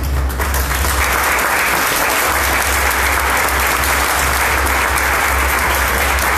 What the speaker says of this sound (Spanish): le regalemos un fuerte aplauso